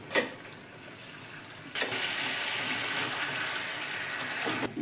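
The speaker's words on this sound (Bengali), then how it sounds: "জলটা কুসুম কুসুম গরম হয়েছে, দিয়ে দিচ্ছি।" Warm water poured into chicken curry in a pot, a brief splash and then a steady gushing pour for about three seconds before it stops abruptly, close and without talk.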